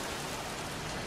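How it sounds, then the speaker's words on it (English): Steady rain in the video game Heavy Rain, a dense, even hiss of falling drops with no pauses and no voices. "won't this rain ever let up?"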